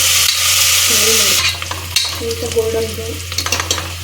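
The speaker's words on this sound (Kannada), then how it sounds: "ಇದು ಆನಿಯನ್ ಎಲ್ಲ ಸ್ವಲ್ಪ ಗೋಲ್ಡನ್ ಬ್ರೌನ್ ಆಗೋವರೆಗೂ ಚೆನ್ನಾಗಿ ಇದನ್ನು ಫ್ರೈ ಮಾಡ್ಕೋಬೇಕು" Onions sizzle loudly and closely in a pan as they fry toward golden brown, a constant crackle broken by repeated scraping stirs and clatter from a spoon against the pan.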